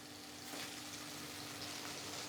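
Cashew and green chili paste fries on a high flame with a dense, steady sizzle and crackle, close and unbroken, with no talking.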